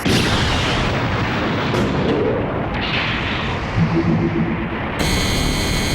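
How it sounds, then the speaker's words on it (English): Anime battle sound effects from Gundam SEED: long-range bombardment blasts rumble continuously and loudly, with deep booming impacts and debris noise, ending in a brief electronic tone. "It's a long-range bombardment."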